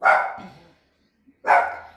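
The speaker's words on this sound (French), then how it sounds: "le chien qui gueule" Zouk the dog gives two sharp, close barks about a second and a half apart, loud and isolated with silence between them.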